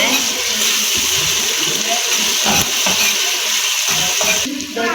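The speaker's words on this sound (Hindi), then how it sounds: "4 मिनट तक इन चीज़ों को हमने भूनना है।" Spice mixture for dal roasting and being stirred in a pan, a steady close frying hiss with scraping strokes of a spoon throughout, continuous and fairly loud.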